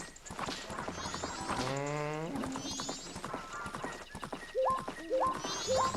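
Rhythmic horse hoofbeats clip-clop under busy game music in Majora's Mask, with a brief whinny-like sweep in the middle.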